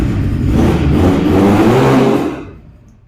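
BMW S1000RR sportbike's combustion engine revving close by, a loud sustained rising roar that holds for a couple of seconds and then quickly dies away, with no talking.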